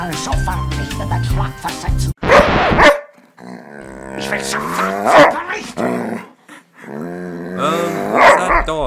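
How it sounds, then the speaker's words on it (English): A dog barks, yips and growls in loud close bursts with pauses between, mixed with speech and music-like tones. "What's that dog? Who does it belong to?"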